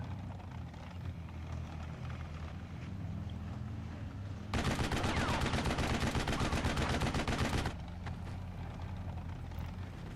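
Rapid automatic gunfire from German Panzer Grenadiers in a WWII strategy video game, a dense burst of shots lasting about three seconds over a low background rumble of engines and battle ambience.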